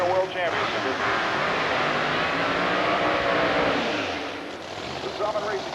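A supercharged Pro Mod drag race car, a Corvette among the entrants, roars down a quarter-mile strip at an IHRA meet in Bristol, Tennessee, loud and sustained throughout with an announcer talking over it.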